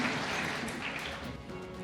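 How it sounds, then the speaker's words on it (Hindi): An audience at an Independence Day 2024 function honoring soldiers claps for the chief guest, a dense, steady wash of applause that fills the brief moment without voices. "और ज़ोरदार तालियां एक बार।"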